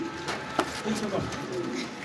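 A pair of pigeons for sale coo softly in short, low, throaty bursts, partly mixed with background noise.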